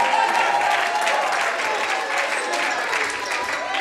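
A church congregation claps together in praise, a dense, even wash of applause sustained for several seconds with faint voices mingled in.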